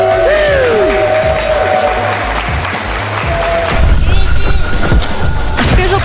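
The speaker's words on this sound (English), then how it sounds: "Big applause for these two fighters." Crowd applause for fighters at a slap championship event, a loud, steady wash of clapping with some cheering. It swells near the end as a few sharp knocks cut through.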